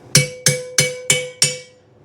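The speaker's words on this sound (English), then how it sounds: "Hammer. We need a hammer. Let's hammer it." A hammer strikes a custom rear frame part for a 1941 Chevy's air suspension five times in a steady rhythm, each blow a sharp ringing metallic clang close to the microphone, with no voices.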